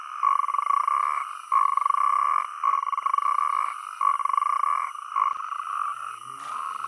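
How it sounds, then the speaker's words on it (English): Natterjack toads croak at a night breeding gathering in Iberia, loud rattling calls in repeated bursts about a second long with short gaps between them. "the natterjack toads crowd together to mate. A strong croak is a sign of tip-top health."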